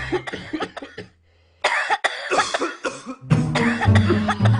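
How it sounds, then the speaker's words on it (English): Several harsh, wet coughs burst out in quick clusters, separated by a short silent pause, loud and close to the listener. "Are they still coughing?"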